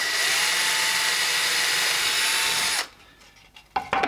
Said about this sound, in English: I'm going to drill these 2 out with a 2mm drill bit